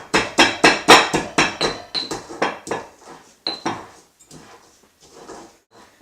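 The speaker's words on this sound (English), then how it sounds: "you've got the black pepper crushed a little bit, and it's marrying with that garlic" Black peppercorns being crushed together with garlic for a marinade, a series of sharp, rhythmic pounding knocks close by, about ten quick strikes that grow softer and sparser before fading into quiet.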